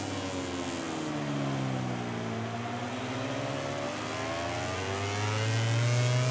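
Racing motorcycle in the video game MotoGP 18 accelerates smoothly out of a corner, a steady engine drone whose pitch climbs in rising bands and swells louder toward the end, with no talk over it.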